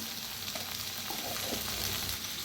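Okra with Maggi masala and ground peanut powder frying in a pan, a dense continuous sizzle with soft stirring scrapes blended into it throughout.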